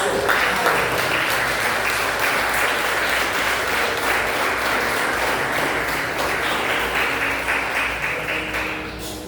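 A church audience gives a strong round of applause, loud and densely packed clapping sustained for about nine seconds, easing slightly toward the end.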